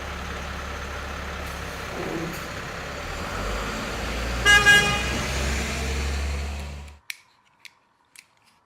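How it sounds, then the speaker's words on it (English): A fire truck's engine rumbles steadily and close, with a brief burst of horn blasts midway, then the sound cuts off abruptly, leaving a few faint clicks. "Fire truck."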